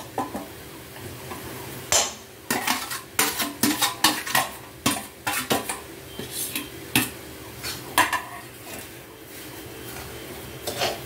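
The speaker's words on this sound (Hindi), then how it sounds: "ये वाली जो सूजी है सूजी भी हम इसके साथ ही मिक्स कर देंगे इसमें" Semolina is stirred into a gujiya filling in a pan, a spoon scraping and knocking against the metal in uneven repeated strokes, close and fairly loud, with no one talking.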